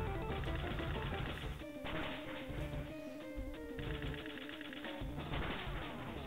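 The Bullet Seed attack in the video game Pokémon Fire Red fires as a quick, rattling string of repeated hits layered over steady game music, holding at a constant level throughout.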